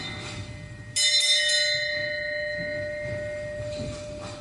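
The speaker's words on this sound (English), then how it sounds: "The bell invites me." A single bell strikes with a sharp attack and rings on, its bright tone slowly fading over a quiet background.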